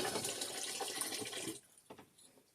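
Tap water pours and splashes for about a second and a half while rinsing a potted plant, then cuts off, leaving faint drips and small handling sounds.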